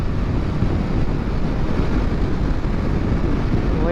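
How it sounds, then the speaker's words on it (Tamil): Strong wind buffets the microphone in a steady, loud rumbling roar beside Sholinganallur Lake, with no break across the whole stretch. "காற்று பங்கமாக அடிக்குது உள்ள."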